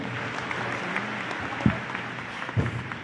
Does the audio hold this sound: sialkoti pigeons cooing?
no